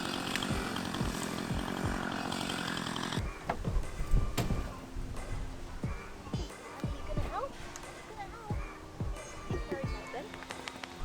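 A chainsaw cutting wood drones loudly at first, then continues more faintly with revving and cutting noises, along with scattered thumps and knocks.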